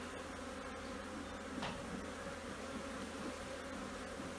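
Honey bees hum in a steady, dense drone around an open hive during an inspection, with a brood box full and smoke in use, continuous and moderately close with no one speaking.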